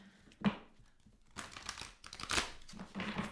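Tarot cards are shuffled softly, with quiet riffling and papery crinkling in a few close bursts.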